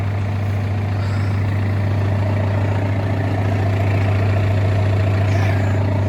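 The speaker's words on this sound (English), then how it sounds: "Tractor's been running a little bit, warming up." A tractor engine idles steadily while warming up, a loud, even low drone with a strong constant hum and no change in pace.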